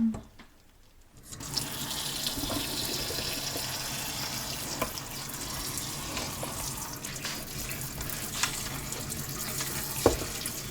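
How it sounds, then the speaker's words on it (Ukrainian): Tap water runs steadily and splashes into a sink as mushrooms are rinsed, after a quiet first second, with a few light knocks and clatters along the way. "Промиваємо гриби."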